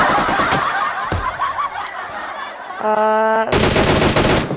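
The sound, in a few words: gunfire in video game PUBG Mobile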